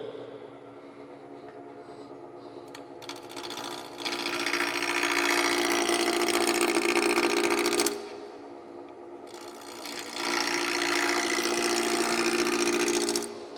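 A wood lathe spins a spindle blank at a fairly high starting speed, giving a steady motor hum. Two louder, rushing stretches of broadband noise swell over it, with no talking.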